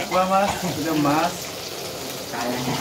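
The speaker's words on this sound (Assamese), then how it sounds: "এয়া মাছ ভাজি আছো আজি আমাৰ খুৰাই মাছ ভাজি আছে" Fish frying in a pan gives a steady sizzle at close range, with a voice talking over it at the start and again near the end.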